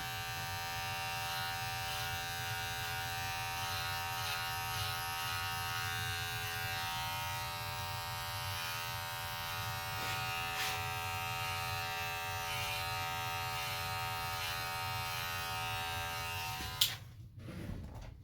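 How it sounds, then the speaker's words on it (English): Electric hair clipper with a guard attachment cutting a man's short tapered haircut, a steady close buzzing drone that runs unbroken for most of the clip before cutting off near the end. "Using 316 attachment and regular clipper."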